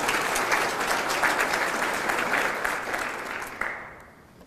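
An audience at a city's State of the City address applauding, a dense steady clapping from a large room that fades out near the end.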